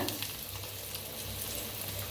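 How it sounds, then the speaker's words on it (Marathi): Red chilli powder added to a hot garlic and turmeric tempering for a dill-leaf dish, giving a loud, dense, close sizzle and crackle that holds steady for about two seconds. "आता त्याच्यातच टाकूया लाल तिखट"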